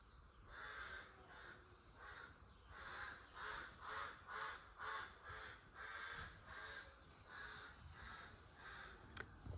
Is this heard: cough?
no